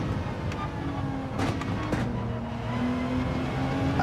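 Gran Turismo 7 GR3 race cars on racing soft tyres, a steady engine drone with a few sharp transient bursts around the middle, held at a moderate level throughout.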